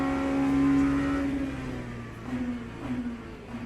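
An LMP2 prototype race car engine in Le Mans Ultimate at Bahrain, a loud steady drone that holds near, then eases off with a small rise and wavering pitch, with no voices.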